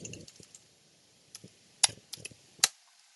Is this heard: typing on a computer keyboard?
yes